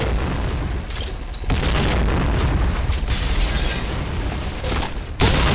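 Loud, continuous blasts and booming bursts from a video game, with a few sharp impacts punctuating a dense, roaring wash of sound.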